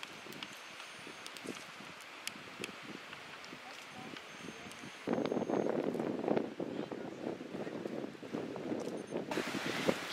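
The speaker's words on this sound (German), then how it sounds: "es ist wirklich, wirklich eisig kalter Wind hier oben" Strong, icy-cold wind buffets a stormy forest high up during an outdoor photo shoot, roaring and gusting against the microphone, then growing noticeably louder and rougher about halfway through.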